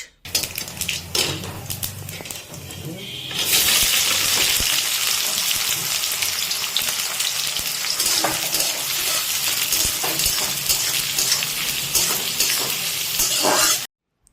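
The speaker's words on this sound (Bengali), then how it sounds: "তো বন্ধুরা এখানে পেঁয়াজটা তো ভাজা চলছে" Chopped onions fry in hot oil tempered with cumin seeds and bay leaves for mutton keema: a loud, continuous sizzle with occasional stirring scrapes, close up and without talk.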